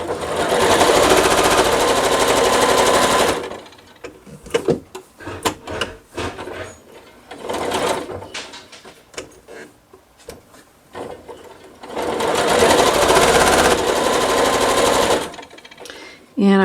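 Sewing a scant quarter-inch seam on a nine patch star quilt block, the machine runs in two loud close bursts separated by a stretch of fabric handling and rustling.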